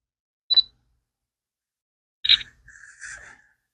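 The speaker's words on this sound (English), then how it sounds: "There seems to be like a shutter delay from when you press the button" A sharp click, then after a pause of nearly two seconds a second mechanical click followed by a short whirring clack, a PaperShoot camera shutter firing close by.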